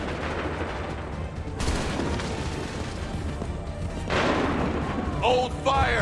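Musket volleys ring out during a battle in Assassin's Creed 3, with booming, crackling bursts of gunfire over a continuous din of combat and shouted orders.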